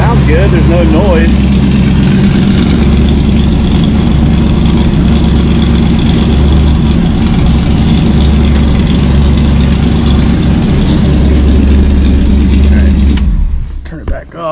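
The engine of a 1965 Ford Mustang Fastback idles loudly and steadily with a deep, even rumble for about thirteen seconds, then is switched off and quickly fades out.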